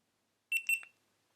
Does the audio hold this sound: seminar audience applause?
no